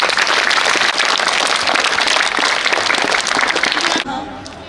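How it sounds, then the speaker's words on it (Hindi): Audience applause fills the hall after teachers are introduced to perform a Dussehra skit about the life of Lord Ram, dense and steady clapping for about four seconds before it abruptly cuts to quieter room sound. "please welcome them with a big round of applause"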